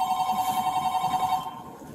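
Telephone ringing with a rapid electronic warble that holds steady for about a second and a half, then cuts off, in a quiet setting with no voices.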